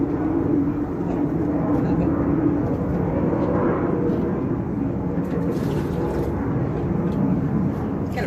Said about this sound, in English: Got a plane going overhead.